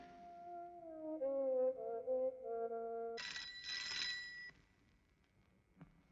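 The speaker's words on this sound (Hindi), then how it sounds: "घंटी बज रही है।" A telephone rings indoors in a home scene from a Hindi comedy film: a string of shifting electronic tones, then a brighter, harsher burst of ringing that stops abruptly, leaving quiet room sound.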